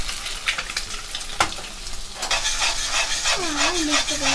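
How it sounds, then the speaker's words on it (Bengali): Eggs and potatoes frying together in a pan, a continuous close sizzle with scraping stirs and a sharp knock partway through, no voices. "আমি এইভাবে ডিমটাকে ভেজে নিচ্ছি আলুর সাথে।"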